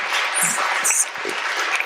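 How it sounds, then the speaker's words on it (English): Audience applause for panelists at a women's empowerment discussion panel, steady crowd clapping for a couple of seconds with a voice and a whistle rising above it. "Thank you to our panelists. One more round of applause."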